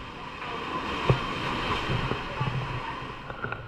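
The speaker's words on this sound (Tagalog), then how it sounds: "binabantayan yung pagkadkad ng alon sa malaking bato" Heavy surf from a typhoon pounds and scrapes against a large rock, a steady roaring wash of water with wind buffeting the microphone and a few sharper crashes rising out of the din.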